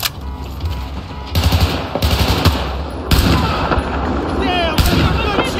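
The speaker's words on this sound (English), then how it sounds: "I'm firing!" Battlefield 4 gunfire rings out in sharp, close bursts at irregular intervals over a dense rumbling battle background, with several distinct loud shots and fainter crackles between them.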